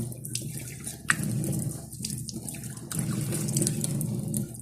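Running water from a tap splashing over hands and a face while soap is rinsed off, a steady close gush broken by brief pauses and drips, with no talk.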